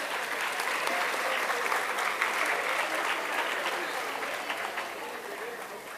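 Students at an environmental gathering in Solapur applaud environmental organisations, a dense, sustained wash of crowd clapping heard from within the hall, even and unbroken.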